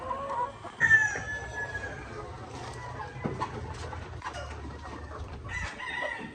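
Heritage-breed pullets and chickens cluck and squawk at close range on a farm, with a rooster's crow rising briefly amid busy farmyard noise.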